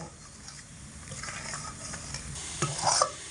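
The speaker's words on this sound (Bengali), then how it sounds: "এইভাবে ডালটাকে শুকনো করে রস মেরে নিচ্ছি" Stale lentil dal stirred continuously in a pan over medium heat to dry it out, with steady scraping strokes over a low sizzle that build to a louder clatter of the spoon near the end.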